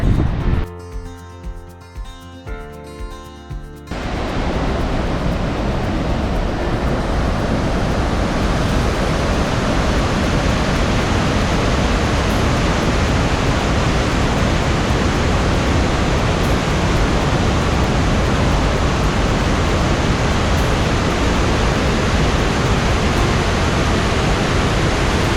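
A powerful waterfall near Spokane roars up close, a loud, steady rushing wash that fills the scene for about twenty seconds after a few brief rhythmic knocks at the start.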